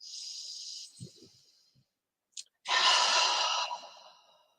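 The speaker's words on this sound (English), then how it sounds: "Let's take a breath. Let's close our eyes. Take a breath with me." A person breathes deeply, a long airy inhale followed after a brief pause by a fuller, louder exhale that trails off, close to the microphone with no talking.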